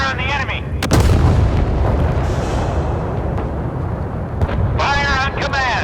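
Heavy warship guns boom and rumble in the naval combat game Force of Warships, aboard the Russian cruiser Pyotr Velikiy, with a deep sustained roar and sharp blasts, while a voice speaks over parts of it.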